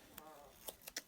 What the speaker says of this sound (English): Y'all hear all that squeaking? That's my chair.